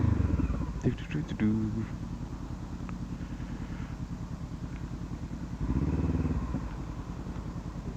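Motorcycle on a group ride to Finchingfield pulling away from a stop, its engine rumbling steadily up close and rising twice as it revs.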